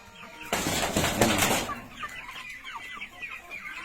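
Chicks and chickens wait for their morning feed, clucking and chirping close by, with a burst of wing flapping and a busy flurry of peeps.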